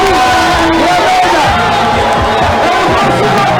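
A dense, loud crowd cheering and shouting continuously at a homecoming parade for Benin's national team, the Guépards du Bénin, at the Place de l'Amazone, with voices merging into a roaring mass.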